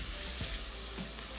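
Turmeric and garam masala powder roast with chicken pieces in a hot pan, producing a steady, fairly soft sizzle with a faint stir or two.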